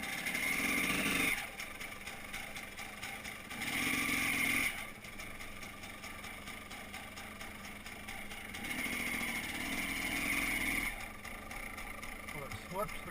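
A motorcycle fitted with a Rekluse automatic clutch idles, then the engine rises in repeated surges as it pulls away in gear without the clutch lever, close and steady, with someone talking between revs.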